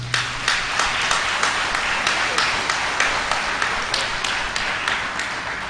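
An audience claps steadily for a club president at a seminar, a moderate, continuous patter of many hands with faint regular accents throughout.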